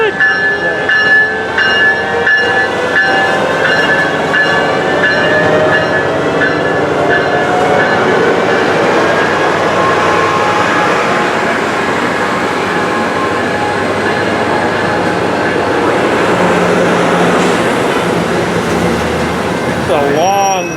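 A loud Amtrak passenger train rolls past close by, a continuous rumbling roar of wheels and cars with a horn-like tone, sustained throughout.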